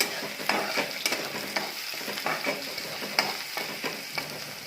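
Onion, green chili and crushed garlic sizzling in a pan while a spoon stirs them, with steady frying hiss and repeated scraping clinks of the stirring, close and fairly quiet.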